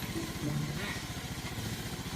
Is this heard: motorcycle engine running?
yes